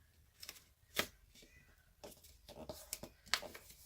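Paper being creased and folded into an origami purse, close crisp rustles and sharp snaps of the sheet coming in irregular bursts, with no voice over them.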